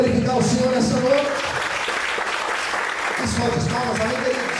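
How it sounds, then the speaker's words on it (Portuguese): Church congregation clapping during an evening service, a loud bed of applause with voices and a singing or speaking lead rising above it at the start and end. "Você pode aplaudir e glorificar o Senhor nessa noite."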